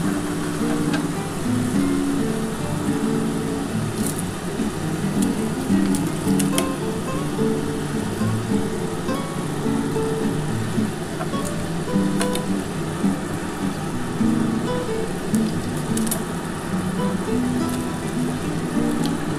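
Pabda fish going into a boiling mustard and poppy seed curry, giving a steady, dense bubbling sizzle that runs unbroken throughout with no talking.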